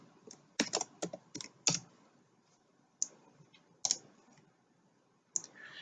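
A computer keyboard clicks in short bursts of keystrokes with pauses between, close and fairly quiet, as an email and password are typed in; no talking.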